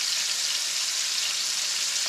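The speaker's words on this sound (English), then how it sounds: "I'm gonna sear this one." A deer shoulder sears in bacon grease in a big pot at a camp cooking setup, producing an even, unbroken hiss of fat spitting, with no voices over it.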